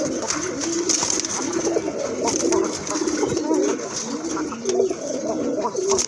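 Pigeons, a domestic breed kept for sale, coo repeatedly and close by in a low, rolling rhythm, with a faint voice in the background.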